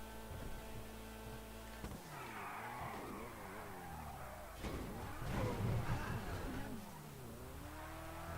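Car handbrake skid in a GTA roleplay game, a tire squeal and sliding engine roar that swells midway over a steady droning hum, with a voice talking faintly underneath.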